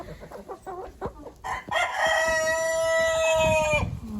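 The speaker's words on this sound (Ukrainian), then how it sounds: "Я вам покажу трішки своїх курей і качок." Chickens cluck in short bursts nearby, then a rooster crows loudly in one long drawn-out call.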